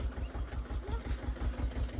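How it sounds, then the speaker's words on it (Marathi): A farm tractor engine runs at idle nearby, a steady low rhythmic chugging that pulses evenly throughout with no voices over it. "मस्तपैकी ट्रॅक्टर केलाय चालू"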